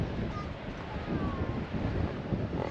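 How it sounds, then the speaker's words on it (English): Strong westerly wind on the coast buffeting the microphone in a steady, loud rush, with a faint roar of surf underneath and no voices. "which like the rest of the coast is getting absolutely pounded by this westerly wind"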